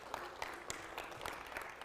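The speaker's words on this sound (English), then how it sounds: "Big round of applause for James" Faint applause from a church congregation during a Sunday talk, a short patter of scattered clapping heard from a distance.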